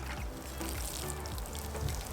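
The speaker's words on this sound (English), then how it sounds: "I'm gonna give it just a little bit of water" Water pours lightly from a container onto freshly sown soil in a 5-gallon bucket in a patio container garden, a soft, continuous trickle heard close up over gentle background noise.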